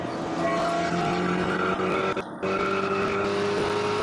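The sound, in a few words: Spec Corvette race car engine, onboard with John Wynn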